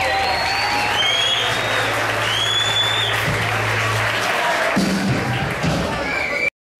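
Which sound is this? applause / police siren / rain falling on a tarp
applause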